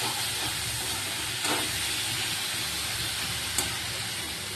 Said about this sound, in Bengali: এটা একটু মোচা আর আলুটা ভাজা ভাজা হতে থাকবে